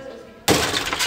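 Car window glass shatters in one sudden loud crash after a short quiet lead-in, struck by a thrown ceramic spark-plug fragment, followed by a bright spray of tinkling shards.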